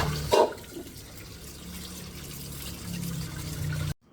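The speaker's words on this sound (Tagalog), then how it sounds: "Hugasan lamang nating mabuti ang mga hiniwa-hiwa nating karne." Sliced meat for adobo is rinsed under running water, giving a steady splashing stream with a brief louder slosh near the start. The sound cuts off abruptly at the end, and no one talks.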